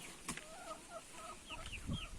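Four-month-old chickens on a rural homestead cluck softly, with a few scattered short calls over a quiet outdoor background.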